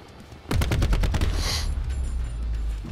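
A burst of rapid gunfire from Call of Duty Black Ops 4 Search and Destroy play opens with a loud volley of evenly spaced shots, then fades into a steady low rumble.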